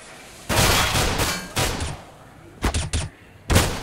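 Pistols fire in a CS:GO pro match at Dreamhack Winter 2014, Fnatic versus Cloud9: around six sharp, loud game gunshots come in irregular bursts, a quick cluster of three near the end.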